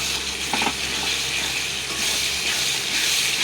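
A mixture of soy sauce, chili sauce and tomato sauce sizzles and hisses loudly in a hot pan, with some stirring, a steady frying crackle throughout and no talking.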